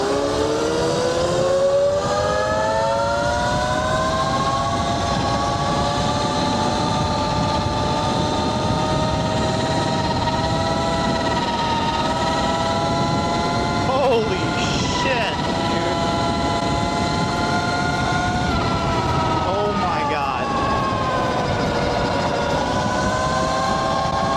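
A 72V Tuttio Soleil electric motorbike fitted with an upgraded Sotion FW23 motor and controller, accelerating at full power on a road: a loud, continuous rising whine with a rushing wind roar that holds steady throughout.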